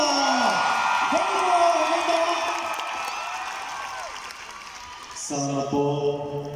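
A concert crowd in Manila applauds and cheers loudly, with whoops and yells over continuous clapping, while voices speak through it.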